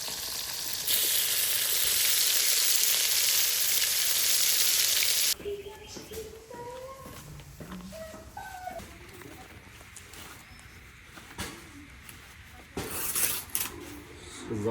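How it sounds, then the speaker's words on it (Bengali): Fish frying in hot oil gives a loud, dense sizzle for about five seconds, then cuts off, leaving quiet outdoor ambience with pigeons cooing and soft clatter near the end. "মাছ ভেজে নিচ্ছি।"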